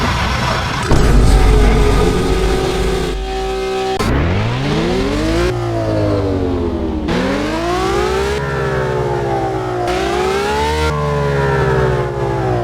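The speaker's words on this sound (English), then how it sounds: "Kind of want to hear this car." Lamborghini Veneno engine in the Roblox game Driving Empire, loud and close, revving in repeated rising sweeps that climb, drop back and climb again, with no talking.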